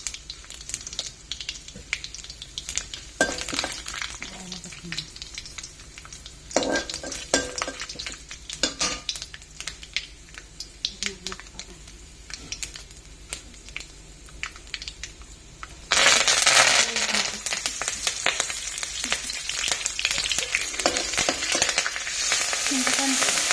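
Cumin seeds, chana dal, urad dal and dry red chillies frying in hot oil for a bitter gourd curry, a continuous close sizzle with utensil stirs and clinks, growing sharply louder and busier partway through.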